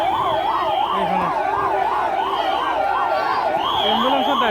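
An ambulance siren wails in a repeating rising-and-falling tone, loud and close, as the vehicle passes through a packed crowd at a public farewell procession; voices murmur faintly underneath.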